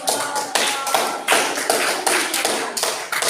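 A classroom of students gives a round of applause, dense clapping sustained for about three seconds with a few louder bursts, close and lively, no voices over it.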